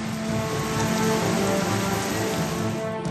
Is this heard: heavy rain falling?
yes